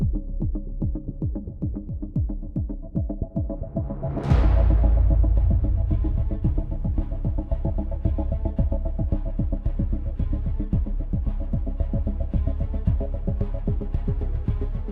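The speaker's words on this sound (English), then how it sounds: "vacuum in the car" A vacuum cleaner works inside a BMW M3. A rhythmic throbbing comes first, then the motor surges to a loud, steady, close drone that holds to the end, with no talk.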